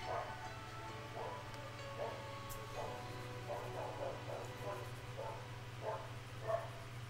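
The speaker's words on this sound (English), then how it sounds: "Oh, that dog." A dog barks repeatedly in the distance, faint intermittent yaps spaced irregularly over a steady low hum, with people talking nearby.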